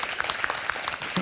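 Studio audience clapping for contestant Pierre on the French quiz show Questions pour un Super Champion: a short burst of dense, even applause, close and loud, with little speech.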